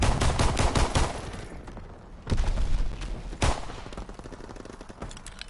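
In Call of Duty WW2, a gun fired from the hip lets off a rapid burst of shots, followed by a few separate loud shots with sharp echoing tails, and no voices.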